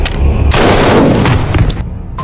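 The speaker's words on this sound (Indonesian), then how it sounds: "menembak musuh yang menikamnya" A loud, close gunshot blast in a film scene, a sharp crack followed by a dense, booming roar that fades over about two seconds.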